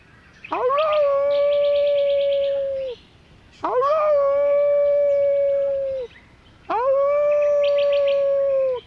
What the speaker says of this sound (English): The Australian dingo went back to the wolf, and he only howls.